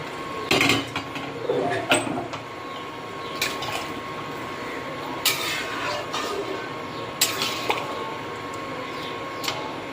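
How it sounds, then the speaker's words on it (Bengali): Chicken ghugni being stirred in a pan, with scattered scraping and clinking of a spoon against metal, a few louder knocks near the start, over a steady low kitchen hum. "ভালো করে একটু নাড়িয়ে নেব।"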